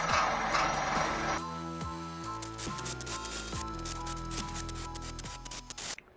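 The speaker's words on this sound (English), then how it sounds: "what I like to do every so often is run over this with a wire wheel" A wire wheel brushes over a steel weld in a metalwork shop, a steady rough scratching hiss with a sudden start, a tonal motor hum and repeated downward sweeps as the spinning brush slows and speeds up, running near and continuous.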